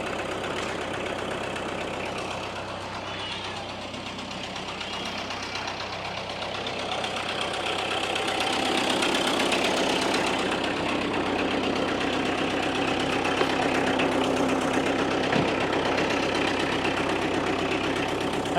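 A farm tractor engine idles in a steady, close, low drone that grows slightly louder partway through and runs with no talking.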